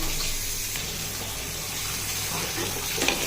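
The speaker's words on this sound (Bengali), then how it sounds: "চিংড়ি মাছটাও ভেজে নেই।" Shrimp frying in a pan with chopped banana flower and a little turmeric, giving a steady, close hiss and sizzle that carries on evenly throughout with no talking.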